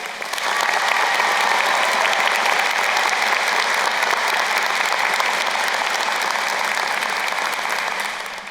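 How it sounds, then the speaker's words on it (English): Sustained applause from a commencement audience at a university school of social work ceremony, a dense, steady wash of clapping that holds evenly for several seconds before tapering at the end. "Please join me in a round of applause for the VCU School of Social Work team and all that they do."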